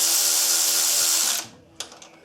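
Power tool tightening bolts on Honda B18 cam gears during an engine build. A loud, steady whirring drill runs for over a second, stops, then a few sharp metallic clicks and taps follow close by.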